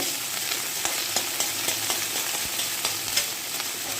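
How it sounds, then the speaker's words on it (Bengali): Hilsa fish pieces frying lightly in hot oil, a dense steady sizzle with small crackles and occasional stirring taps, close and continuous with no talk. "হালকা ভেজে নেব"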